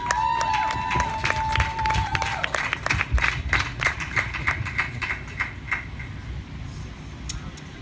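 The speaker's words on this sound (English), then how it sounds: "Please give a big round of applause to Kelly Helton" An audience at an equal rights gathering during the One Love Festival claps and cheers, a dense round of applause that gradually thins out as it fades over several seconds.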